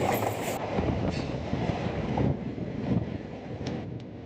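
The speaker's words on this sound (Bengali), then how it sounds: "আমাদের পাশে দিয়ে চলে যাওয়া one two eight four one Coromandel express" The Coromandel Express (12841), running from Shalimar to Chennai, passes alongside on the adjacent track near Howrah with a steady, close rumble of rolling wagons and wheel clatter, plus faint squeals, heard from inside another train.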